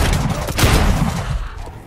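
A shotgun in Dead Island 2 fires once with a heavy close boom, followed by a short rumbling decay.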